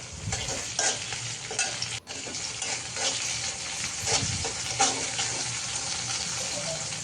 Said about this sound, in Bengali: তো এখানে আমি তো এখন ভাজিটা বসাবো